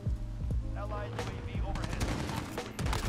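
Rapid gunfire bursts from the Call of Duty: Modern Warfare video game crackle close and loud over steady game ambience, with a sharp shot near the start and more toward the end.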